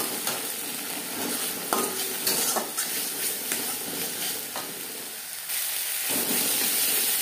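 Green chili paste, ginger paste and roasted coriander and cumin powder fry in mustard oil in a pan for a cauliflower paratha filling, with a constant close sizzle broken by scraping, clinking stirring strokes.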